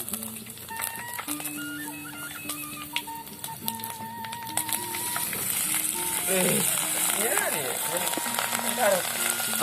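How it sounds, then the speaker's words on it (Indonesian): Rice frying in a pan for Sundanese-style nasi goreng, a continuous sizzle that builds louder over the second half with clinks of stirring, while people talk over it. "Setelah matang ikannya, dagingnya, tinggal kita goreng nasinya baraya."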